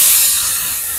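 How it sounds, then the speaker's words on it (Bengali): Chopped tomato fries in a pan for toor dal, giving a steady, loud, close sizzling hiss that fades slightly and is heard alone. "এবার টমেটোটাকে একটু ভালো করে ভেজে নেব।"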